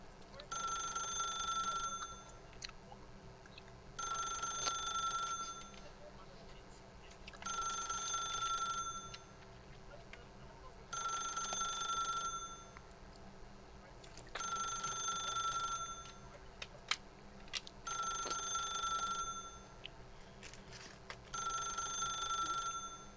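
Old-fashioned telephone bell ringing in The Stanley Parable, sounding in seven regular bursts of about two seconds each, separated by short pauses, fairly loud against a low ambient hum.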